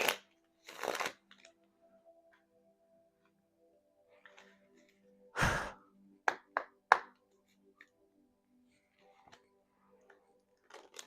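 A handful of oracle vibe cards shuffled and tapped in short bursts, a couple of louder riffles separated by near silence and a few quick card snaps close to the listener.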